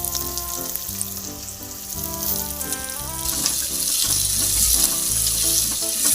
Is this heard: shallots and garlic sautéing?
yes